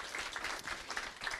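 Audience applause at a school district board meeting, a short burst of steady clapping from a crowd, moderately distant and continuous throughout.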